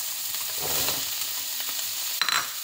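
Onion and carrots hitting hot oil in a pan and frying with a steady close sizzle, a soft stirring scrape partway through and a brighter burst of crackle near the end.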